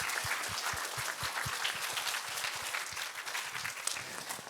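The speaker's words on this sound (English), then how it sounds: "give yourselves a round of applause" Students at a school memorial assembly give a steady round of applause, many hands clapping together in a large hall, moderately distant and even, with a few sharper claps standing out.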